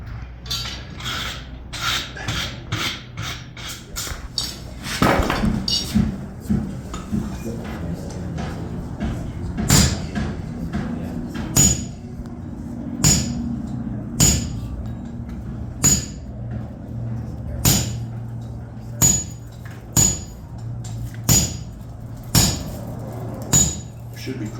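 A hammer drives a punch and chisel into metal while forging a Dutch oven lid lifter. Sharp ringing strikes come close and loud, first in a fast flurry, then in a slower, steady rhythm.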